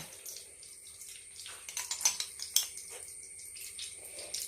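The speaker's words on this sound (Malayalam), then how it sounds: "അതിലേക്ക് നമുക്ക് നെയ്യ് ഒഴിക്കാം" Ghee pours into a bronze pot, with a soft trickle and a few light metallic clinks. No one speaks.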